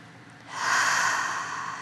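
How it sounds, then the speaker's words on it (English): One deep breath drawn in through the nose, a close airy inhale that swells and holds, alone with no talk. "now take a deep breath"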